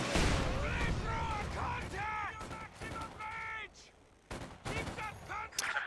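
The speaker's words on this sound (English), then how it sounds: "We also got the 82mm mortar firing away" An 82mm mortar fires in a Company of Heroes 2 1v1 match, with sharp, booming shots and other battle noise scattered through the clip while a commentator talks over it.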